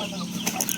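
Kadaknath chickens let out on a village farm in the morning cluck briefly, with a short burst of wing flapping in the middle of the moment.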